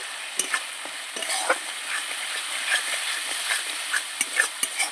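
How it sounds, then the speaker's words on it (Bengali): Spice masala with turmeric, salt and a little sugar stir-fried in a pan for a Bangladeshi fish jhal, a steady close sizzle punctuated by sharp spatula scrapes at irregular intervals. "মশলাটা ভালো করে কষিয়ে নেব"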